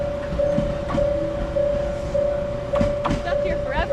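A train pulls away from a station, giving a steady, moderately loud mechanical hum with a sustained tone and faint rattles underneath, with no voices.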